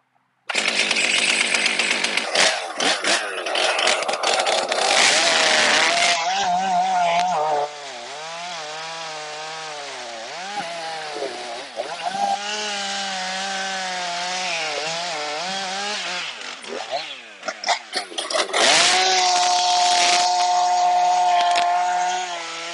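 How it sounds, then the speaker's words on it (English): A chainsaw with an Alaskan mill attachment ripping a log into lumber outdoors, a loud revving two-stroke engine that drops to a wavering idle mid-cut and then surges again, close and sustained. "I can Alaskan mill it right here in place"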